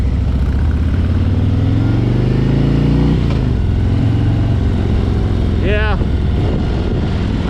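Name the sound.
Harley-Davidson Road Glide motorcycle engine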